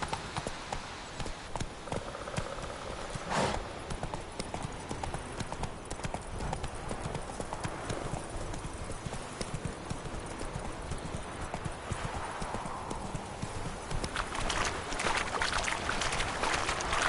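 Horse hooves clip-clopping at a steady galloping rhythm in The Witcher 3, continuous and fairly close, with faint background game ambience and no speech.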